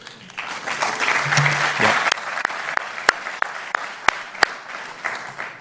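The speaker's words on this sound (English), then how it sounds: "I should say save your applause" Audience applause in an auditorium at an Asia Society event, rising to a steady clatter then thinning into scattered individual claps, with a brief voice.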